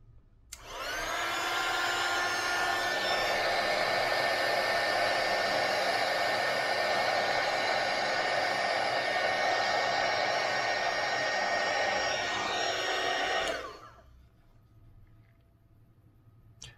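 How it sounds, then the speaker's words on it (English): A hot air blower roars steadily at close range as it heats a thermocouple for an Arduino temperature test, running loud and continuous for about thirteen seconds before winding down, with no speech. "hopefully we will see a spike in it when I just blow the hot air. So this will be noisy"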